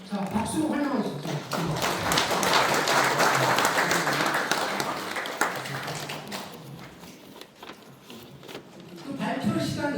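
Audience applause welcoming a speaker at an academic conference, swelling into a dense wash of clapping that fades midway, with talk heard at the start and end.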